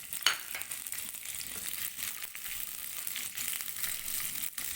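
Cashews frying in a little oil give a steady, close hiss of sizzling with faint crackles and stirring scrapes throughout.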